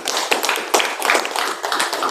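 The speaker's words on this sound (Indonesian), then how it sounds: "Tepuk tangan dulu." An audience at a community gathering in Pekanbaru, Riau claps together, a dense, steady patter of many hands that stays fairly loud and even for about two seconds.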